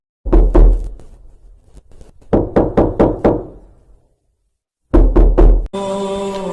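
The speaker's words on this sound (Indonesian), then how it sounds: "Tiba-tiba dari luar pintu terdengar seseorang mengetuk pintu." Knuckles rap on a wooden door in loud, sharp bursts: a quick group of knocks, a pause, another rhythmic series of four or five, silence, then more knocking before a tonal sound takes over.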